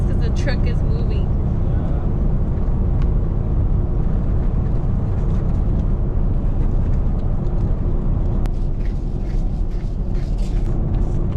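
Inside a moving truck, a steady, loud road rumble and engine drone fills the cab without a break, with faint rattles over the continuous noise.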